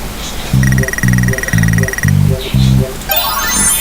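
Video game duck quacking in five rhythmic, evenly spaced synthetic bursts over a held electronic tone, followed by a rising sweeping game sound.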